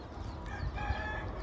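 A young chicken crows once, a short strained cock-a-doodle call with a raspy edge, fairly faint against quiet farmyard surroundings.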